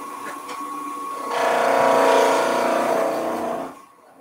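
A voice imitates a rocket engine while a wooden spaceship mobile is being made, giving a sustained, loud rushing roar that swells and holds for a few seconds before dying away, with no other talk.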